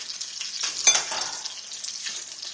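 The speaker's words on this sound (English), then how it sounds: "Okay, these are frying good." Food sizzles and crackles in a hot pan, a continuous close frying hiss with small pops and a brief stirring scrape.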